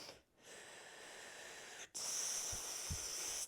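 A strong, sustained hissing exhale through the lips during Pilates breathing, loud and close, following a steadier breathy sound, with a brief gap before the forceful shush.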